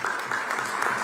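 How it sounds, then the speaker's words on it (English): A conference audience in Visakhapatnam gives a round of applause for Hemant, a brief, steady burst of many hands clapping at even loudness. "let's give a big round of applause"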